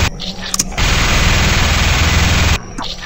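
A minigun in a zombie video game fires in one sustained, dense burst of rapid shots for about two seconds, loud and steady, with quieter game sounds before and after.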